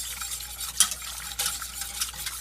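Hoisin-based Asian stir-fry sauce whisked in a pan as it comes to a boil, a bright bubbling hiss broken by quick metallic whisk clicks against the pan, close and fairly loud.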